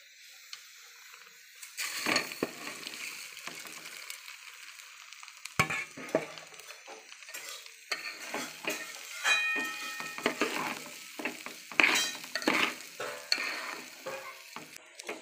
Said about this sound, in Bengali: চালটা একটু নেড়ে নেব।